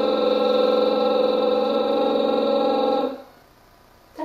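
A voice imitates a motor boat with a sustained lip trill sung on one steady pitch for about three seconds, buzzy and close, then stops, followed by a brief short sound.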